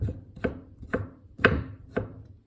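A kitchen knife slicing pickles on a cutting board, five crisp, evenly spaced chops about half a second apart, close and clear with no talking.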